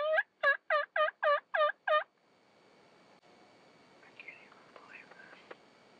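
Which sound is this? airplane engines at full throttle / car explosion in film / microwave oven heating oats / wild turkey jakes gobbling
wild turkey jakes gobbling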